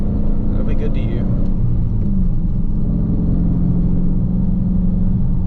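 A six-speed Dodge Scat Pack engine drones loudly and steadily from inside the car while driving, a thick low rumble holding constant for several seconds, with a brief faint voice near the start.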